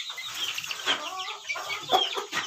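Close, repeated clucking from a large breeder rooster, a string of short raspy notes with small pauses between them.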